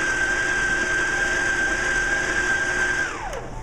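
Stand mixer kneading bread dough, a steady high motor whine with a low mechanical hum that drops in pitch as it winds down near the end, close and loud, no talking.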